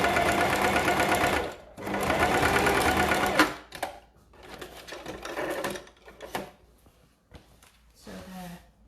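A sewing machine stitches a seam through oilcloth on a make-up bag, running in fast rattling bursts of a couple of seconds each, separated by short pauses and lighter stop-start runs.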